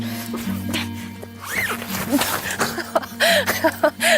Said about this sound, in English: The zipper got jammed.